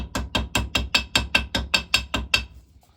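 Ball peen end of a hammer tapping on metal parts of a 1921 Lister TM type stationary engine water pump, about eleven sharp, evenly spaced ringing taps close by, then stopping, no talk.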